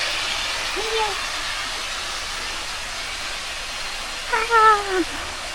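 A cat in a northern Thai mountain village near Lampang gives two meows, a short one early and a longer drawn-out one near the end, clear over a steady background hiss.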